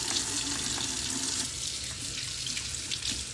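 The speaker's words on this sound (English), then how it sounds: "1 second as I wash my hands." Hands being washed under a running kitchen tap, a steady close rush of water splashing into the sink with no voices.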